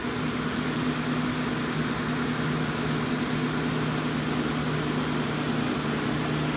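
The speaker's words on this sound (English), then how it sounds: "All right, let's finish welding up." Continuous crackling buzz of welding on a steel rock slider for an off-road vehicle, steady and loud with a constant electrical hum underneath, running unbroken throughout.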